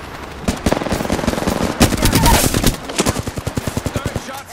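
Rapid bursts of automatic gunfire in a team shooter video game, loud and continuous, with dense strings of shots that thin into separate evenly spaced reports near the end.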